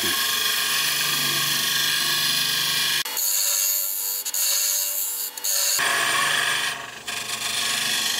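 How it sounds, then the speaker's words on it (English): A skew chisel makes plunging cuts into wood spinning on a lathe while a sword part is turned. A loud, continuous hissing scrape runs throughout, briefly thinning and dropping in the middle, with no talk. "I'm just using this skew chisel to go in there with plunging cuts"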